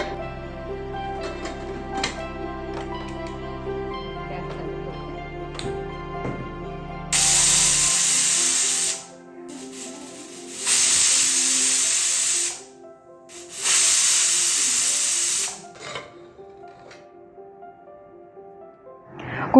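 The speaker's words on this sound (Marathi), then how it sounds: "आपण मध्यम गॅसवरती 3 शिट्ट्या करून घेऊया." A pressure cooker on a gas stove cooking moong dal lets off loud hissing whistle bursts of steam, three blasts separated by short pauses, after a quieter stretch of kitchen clatter.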